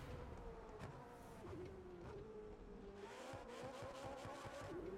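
A McLaren 765LT engine in The Crew Motorfest revs and rises through the gears with gliding pitch sweeps, a close, steady engine note with faint tire squeal and no talking.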